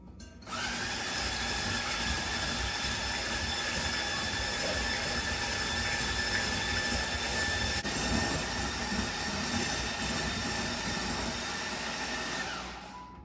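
An electric hand mixer whirs steadily, beating a tiramisu mixture until it turns white and frothy; the loud, even motor whine runs unbroken for about twelve seconds, then stops.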